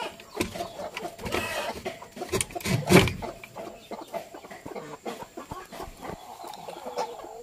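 Bangkok breed hens clucking and fussing close by, with irregular clucks, scuffling and a few louder squawks over a busy, rustling background.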